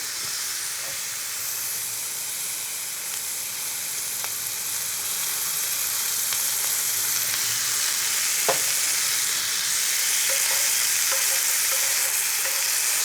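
Marinated turkey satay pieces sear on a hot grill or plancha with a steady, even sizzle and hiss throughout, close and moderately loud, with a few faint clicks near the end.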